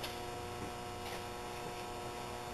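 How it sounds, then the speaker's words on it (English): Compressor of a Zuber smoker humming, a faint steady low drone that continues unchanged throughout with no other sounds. "There's the compressor again."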